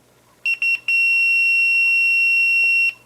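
A multimeter continuity tester beeps while probing a flat ribbon cable connection during a Panasonic Lumix camera repair: two short, loud beeps close by, followed by one steady tone lasting about two seconds, with nothing else audible.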